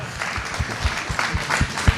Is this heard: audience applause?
yes